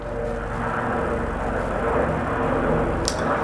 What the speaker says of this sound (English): Wow, there's a plane.